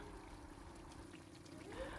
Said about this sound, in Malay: Saya akan tambahkan juga air secukupnya.